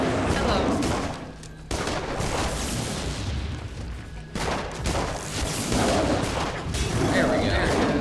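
A mine exploding in the Dungeon Siege III video game, heard as loud, rumbling blasts and crackling bursts amid continuous combat noise, briefly dropping away before surging again.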